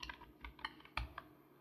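Computer keyboard typing Python code, a few crisp, close keystrokes in uneven rhythm over a quiet background, with no speech.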